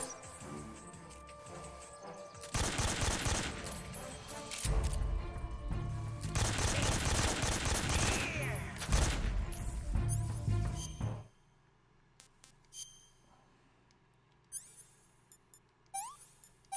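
Heavy assault rifle fire in Metal Gear Solid 3, long loud automatic bursts lasting several seconds, then quiet jungle ambience with faint chirps and a few sparse clicks.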